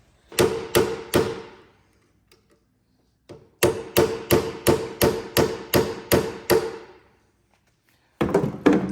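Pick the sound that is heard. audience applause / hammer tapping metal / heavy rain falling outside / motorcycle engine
hammer tapping metal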